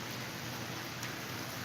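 Steady rain falls on a porch at a cafe, a dense, even hiss of drops that holds at a constant level with no speech over it.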